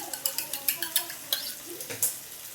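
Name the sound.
stirring frying food in pan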